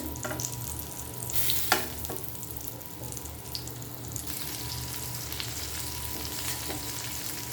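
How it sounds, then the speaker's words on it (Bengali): Green tomatoes charring in a frying pan for a mashed tomato dish give off a steady close sizzle and crackle, with a few sharper pops and faint clinks of stirring. "টমেটোটাকে আমি এভাবে একটু পোড়া পোড়া করব"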